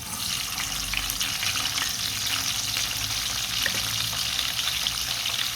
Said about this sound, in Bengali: তেল গরম হয়ে গেছে পেঁয়াজ কাঁচামরিচ দিয়ে দিচ্ছি